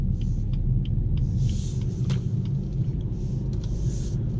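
A BMW 4 Series car being driven through town, giving a steady, close low rumble of engine and road noise throughout, with a few faint light ticks above it and no talking.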